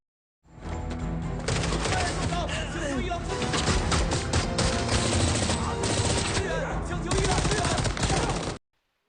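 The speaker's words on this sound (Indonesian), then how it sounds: "Terjadi aksi kejar-kejaran dan baku tembak antara pihak Yaksa melawan pihak kepolisian" Rapid bursts of gunfire fill a tense police shootout and chase scene, a dense, loud barrage of shots that runs almost without pause, with voices mixed in among the firing.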